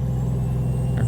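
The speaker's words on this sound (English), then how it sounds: "this truck has a retarder" In American Truck Simulator, a truck's retarder engine brake drones as a low, steady, close rumble with a faint airy hiss on top, lasting just about a second.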